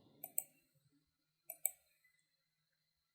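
Computer mouse clicks while placing points in AutoCAD, sharp crisp double clicks in two close pairs about a second apart, with another click at the end, in an otherwise quiet room.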